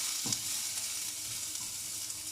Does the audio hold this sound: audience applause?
no